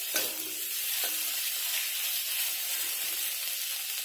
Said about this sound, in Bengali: তো এটাকে খুব ভালোভাবে কষিয়ে নেব।